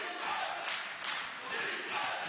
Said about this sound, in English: The crowd trying to get him into a little home cooking.